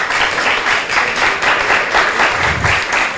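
Audience applause for social and health workers, a dense, steady wash of many hands clapping throughout at even loudness.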